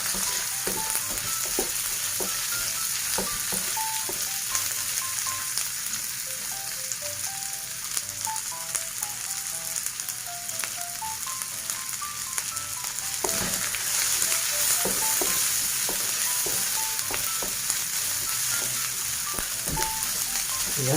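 Chopped garlic and onion frying in a pan give a steady, close sizzle and crackle that runs unbroken throughout, with faint clinks of stirring.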